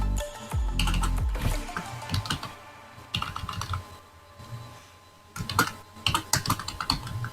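Typing on a computer keyboard while entering a cookie-storing JavaScript page heading, heard as bursts of close, crisp key clicks separated by pauses, with no talk.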